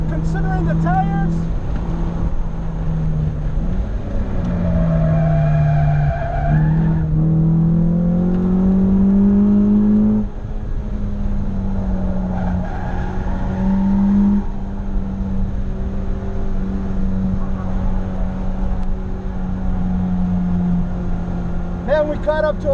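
A car lapping a race track on its first track day gives a constant, loud engine drone whose pitch climbs and falls with gear changes and speed, heard from inside with road and wind noise underneath.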